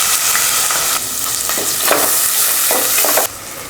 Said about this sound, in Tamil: வெங்காயத்தை ரொம்ப வதக்க தேவையில்லை